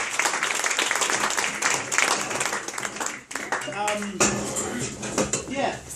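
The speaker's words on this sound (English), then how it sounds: "Give a round of applause, guys." Applause from an audience after a hypnosis demonstration at a Chamber of Commerce talk, a dense spread of clapping running the whole stretch with a short dip midway, mixed with a few voices.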